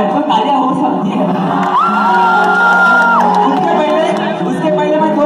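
A college festival crowd whoops, shouts and cheers loudly and close by, with rising whistle-like cries over a dense wall of applause and voices.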